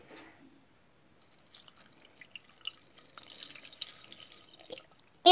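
Water is poured and trickles into a pot of mutton biryani, a faint, close dribble that builds gradually, ending with a sudden louder splash or clatter.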